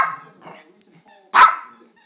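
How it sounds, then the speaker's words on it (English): A Papillon dog gives one loud, sharp bark close by, after a stretch of quieter sounds that may be voices or faint whines. "Is that all you can do is bark?"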